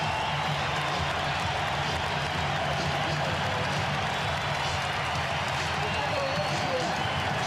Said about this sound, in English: Standing ovation for Tony Kukoc